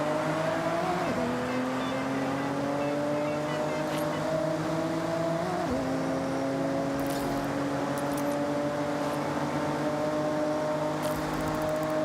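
A race car engine in the Forza Horizon 6 video game holds a steady, loud drone for the whole stretch, with two quick dips where it shifts gears and then pulls on again. Faint talk may sit under it.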